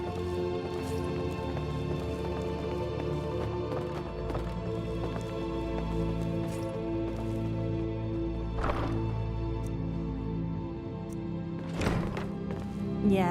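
Horses at a stable in Skyrim, with hooves clopping in a steady rhythm and an occasional whinny over constant ambient game sound and music, fairly close and moderately loud.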